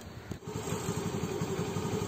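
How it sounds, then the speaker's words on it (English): A Honda scooter engine idles steadily after an oil change, a continuous close, even chugging hum with a brief click near the start and no voices. "start the engine and let it idle for 3 to 5 minutes."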